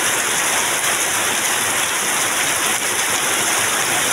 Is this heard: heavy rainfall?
yes